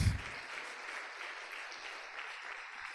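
A church congregation applauds, with soft, continuous clapping at a low, steady level after a brief thump at the start.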